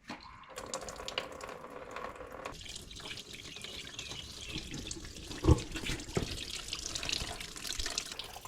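Coolant drains from the radiator of a Takeuchi TL6 tracked skid steer, a steady splashing pour like a running tap that continues throughout, with a couple of louder knocks near the end.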